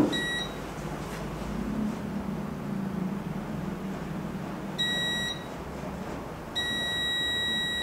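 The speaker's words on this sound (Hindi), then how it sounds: "अब हमें ये कैपेसिटर देखना है कि ये बजर मोड पे बीप दे रहा है कि नहीं दे रहा है।" A multimeter in buzzer mode beeps while its probes test a capacitor on a mobile phone circuit board, giving short high-pitched tones near the start and two sustained beeps later, close and clear over faint background noise.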